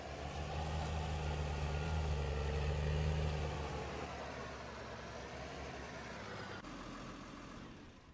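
Tractor engine in Landwirtschafts-Simulator 2019 (LS19), idling and rumbling steadily as the machine is moved, loud at first, then easing slightly after a few seconds, with no voices.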